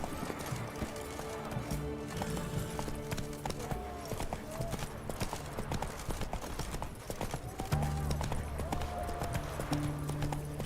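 Roach, a horse in The Witcher 3 video game, gallops with rapid repeated hoof clip-clops over the whole stretch, joined by ambient game music and environmental sound, with no talking.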